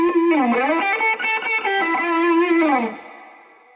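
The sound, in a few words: electric guitar through overdrive pedal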